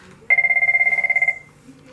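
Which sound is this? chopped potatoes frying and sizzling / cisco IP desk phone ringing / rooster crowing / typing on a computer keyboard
cisco IP desk phone ringing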